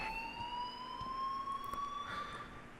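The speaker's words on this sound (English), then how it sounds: "please turn off that alarm" Alarm in the Life is Strange video game, a steady rising electronic siren-like tone held continuously and fairly loud over a faint background hum, with no voices.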